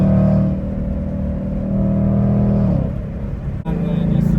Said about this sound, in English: I like the downshift.